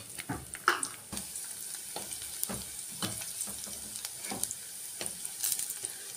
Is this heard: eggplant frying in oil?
yes